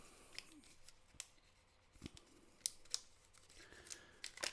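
A tightly wrapped paper roll of old coins from 1999 being torn open, with sharp crinkling paper snaps and light clicks spread out in quiet close-up, no talking.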